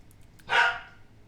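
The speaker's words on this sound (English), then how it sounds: "Oh, that was a dog." A single dog bark, fairly close and clear, a short sharp burst against a quiet room background.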